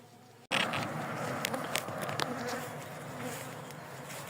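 A dense, loud buzzing of many aggressive honeybees from a transferred swarm starts abruptly and swarms close by, holding steady without any talking.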